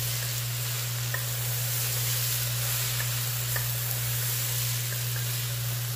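Beef tripe sizzles steadily in a hot pan as it is stirred, a constant frying hiss with a few faint clinks of the utensil against the pan over a low background hum.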